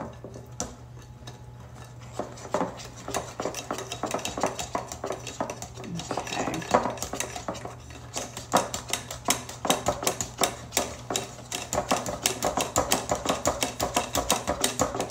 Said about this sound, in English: Scrape down the sides.